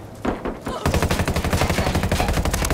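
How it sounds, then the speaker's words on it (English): Heavy gunfire rattles in a video game shooter: dense, loud, rapid automatic bursts, close up and continuous after a brief opening volley. "I'm under heavy fire!"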